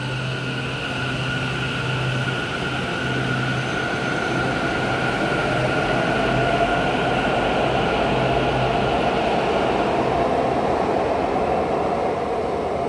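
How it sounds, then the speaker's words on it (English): A metro train on Taipei's MRT pulls away from a platform, its motor whine rising steadily in pitch over a continuous rumble of wheels on track, loud and close. "Now the faster train departs."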